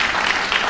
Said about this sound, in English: maybe a brief applause for the three of those people